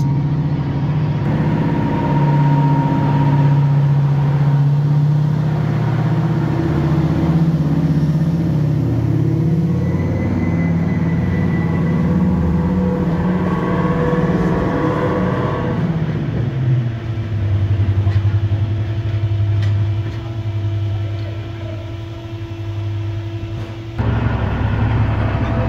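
Deltic diesel locomotive engine running at a railway gala on the Great Central Railway, a loud, steady low throbbing drone that holds throughout and shifts pitch slightly partway, close by with no talk.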